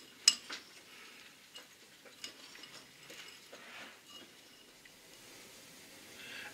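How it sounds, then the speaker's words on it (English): Peanuts and English toffee bits being stirred together in a bowl give off soft, scattered clicks and scrapes, faint and irregular, with one sharper knock near the start. "give this a good stir"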